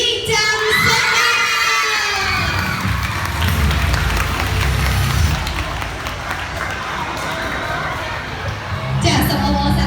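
At a school competition ceremony, a crowd of children shouts and cheers loudly with scattered clapping, a sustained noisy swell that continues throughout, with some voices speaking over it.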